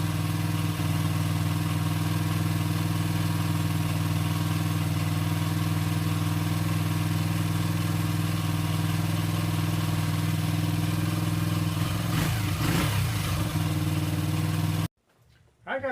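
A Honda XR80 motorcycle with a freshly rebuilt engine and a China PZ20 carburettor idles steadily and close after a kick start, choke fully off, a low even putter continuing almost without change.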